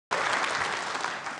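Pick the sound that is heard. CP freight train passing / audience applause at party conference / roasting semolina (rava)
audience applause at party conference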